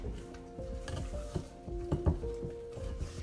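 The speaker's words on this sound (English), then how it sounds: "I'm gonna just mix it a little bit more till it's combined, not too much." Pumpkin spice muffin batter stirred with a spatula in a bowl, a steady close scraping and soft thudding with several sharper knocks against the bowl, no voices.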